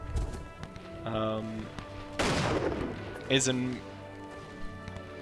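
Musket fire from the Between Empires strategy game, a France campaign battle: a burst of crackling volley shots around the middle, then a sharper report shortly after, heard over game music and a voice talking.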